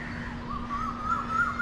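A faint bird calls a few times over a steady background hum along the Nesar nature trail on Malabar Hill in Mumbai, with no one talking.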